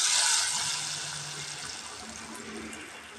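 Hot tempering poured into cooked dal for a brinjal and green gram kuzhambu, heard as a close, continuous hissing splash of liquid that is loudest at the start and gradually settles.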